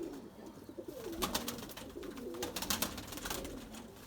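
White pigeons coo repeatedly at close range while feeding, soft throaty rolling calls overlapping in a steady rhythm, with faint rustling and clicks in the background.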